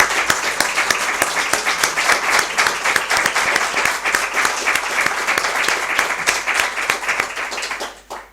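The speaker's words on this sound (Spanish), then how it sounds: "Os pediría, por favor, un aplauso para Emilio" Sustained audience applause for writer and lexicographer Emilio at a reading-club gathering, dense and steady clapping from a roomful of people that carries on for about eight seconds before quickly dying away.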